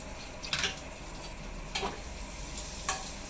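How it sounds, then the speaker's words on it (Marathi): Green chillies frying in hot oil with garlic, a steady close sizzle with a few sharper crackling bursts as they are stirred, no talking. "त्याच्यानंतर मग आपण ह्याच्यामध्ये हिरव्या मिरच्या ऍड करूया."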